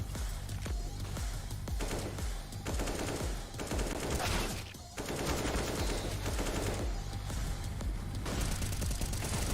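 Dense, continuous AK rifle fire and overlapping gunshots echo through a Counter-Strike esports match between forZe and Bad News Eagles, loud and relentless with only a brief dip midway.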